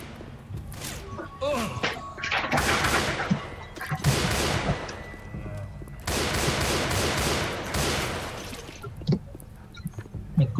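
Heavy gunfire mowing down zombies in the Left 4 Dead 2 video game, with long, loud, rapid-fire bursts separated by brief pauses and mixed with crashes and thuds.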